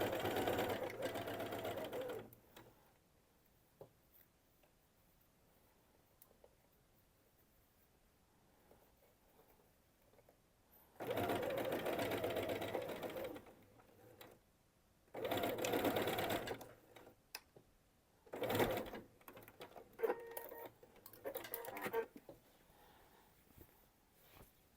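A sewing machine stitches a luxury bag, Uzma Top style, in several separate bursts of steady mechanical running, with quiet pauses between the runs.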